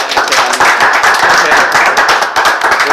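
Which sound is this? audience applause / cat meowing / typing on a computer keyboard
audience applause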